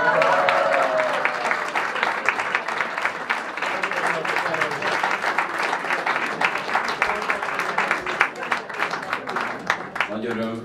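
Sustained applause from a crowd at a school graduation ceremony, dense clapping throughout at a steady loud level, with some voices mixed in beneath.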